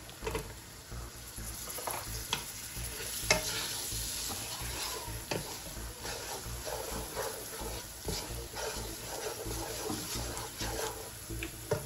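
Green chillies sizzle steadily in hot oil in a pan while being stirred, with scraping and clinking from the stirring and a continuous close frying hiss, no voices.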